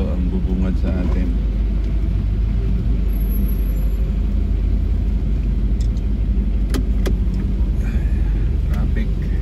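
Road traffic on Magilian Road in Baguio: a continuous low rumble of passing cars and engines with occasional sharper clicks, and a person talking over it.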